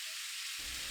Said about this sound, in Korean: 간장 1큰술을 팬에 직접 닿도록 넣어요